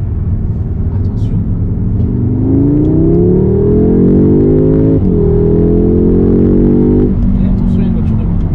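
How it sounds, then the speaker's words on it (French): A car in dynamic drive mode accelerates up close, its engine note climbing in one long pull, briefly dipping at a shift, then rising again over steady road rumble before easing off. "je vais tenter de faire une petite accélération."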